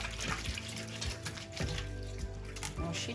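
A cloth face mask being washed by hand under running tap water, with a steady splashing flow, near and fairly loud, and faint rubbing and dribbling mixed in.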